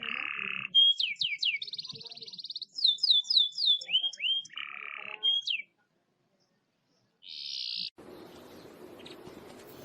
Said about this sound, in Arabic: طائر الكناري.